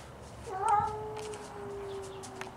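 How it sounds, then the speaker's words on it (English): A cat gives one drawn-out meow that rises and then slides down into a long, steady tone, fairly close and clear with no talk over it. "Oh, there's the other cat right there."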